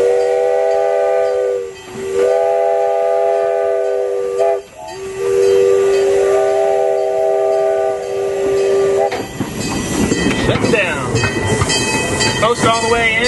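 A steam locomotive on the Billy Jones Wildcat Railroad sounds loud and close, with sustained whistle tones broken by two brief dips, then shifting into heavy steam hiss and rhythmic mechanical clatter.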